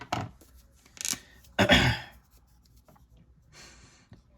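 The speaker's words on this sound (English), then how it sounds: "So I'll write that." A pen or marker scratches across a board or tablet during a physics lecture on fluids, coming in a few short, brisk strokes separated by pauses, close and fairly quiet with no talk.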